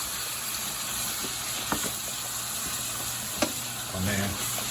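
Wild-caught Gulf shrimp sizzle steadily in a pan, a continuous bright hiss with a couple of faint clicks and a slight swell near the end, no voices over it.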